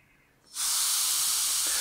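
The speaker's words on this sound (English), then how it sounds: "I'm going to spray out the liquid" Liquid sprays from a full tank during jet engine component testing, a sudden loud, steady broadband hiss that bursts in after a quiet half-second and holds constant to the end.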